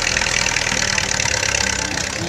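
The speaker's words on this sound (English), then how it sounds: "Chevy engine." A Chevy engine in a doodlebug tractor built from an old bread truck with a four-speed transmission runs steadily at idle at a harvest festival pulling contest, a close, continuous loud rumble with no talking.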